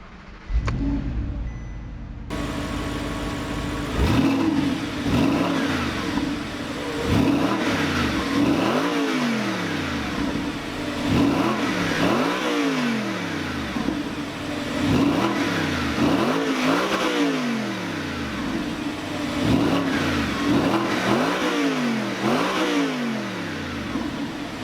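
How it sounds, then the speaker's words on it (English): The naturally aspirated engine of a 2014 Audi R8 Spyder starts after a short silence, then settles into an idle broken by a string of sharp, repeated revs that climb and fall, loud and close, with no talk. "it's time to start up the naturally aspirated motor of this Audi R8 Spyder and hear how it sounds"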